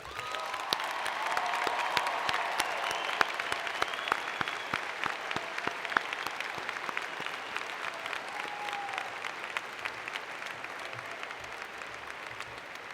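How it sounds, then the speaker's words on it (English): Sustained applause from a commencement crowd for the day's graduates, an even wash of many hands clapping at moderate distance, with faint cheering mixed in throughout. "Please join me in another round of applause for today's graduates."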